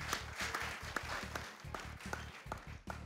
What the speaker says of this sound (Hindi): वाह वाह वाह वाह, अहमद भाई के लिए तालियां